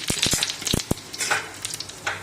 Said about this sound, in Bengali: তেল গরম হয়ে গেছে। এখানে আমি জিরে দিয়ে দিচ্ছি গোটা 1 চামচ।